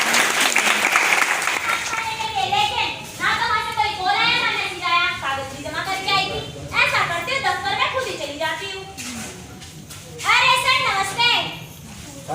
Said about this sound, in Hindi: इस बार तालियां बजा दो सारे।